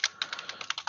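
Rapid keystrokes on a computer keyboard, about ten crisp close clicks in a quick uneven burst, with no voices.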